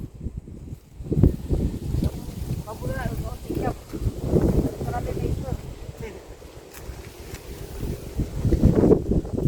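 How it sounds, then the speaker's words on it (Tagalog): Gusty wind buffets the microphone in rough, rumbling bursts, with a voice speaking intermittently underneath. "Lakas ng hangin."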